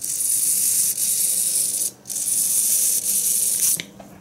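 Several RC servos sweep back and forth together, run by a handheld servo tester, giving a steady high whirring buzz with brief pauses where the motion reverses, close and alone.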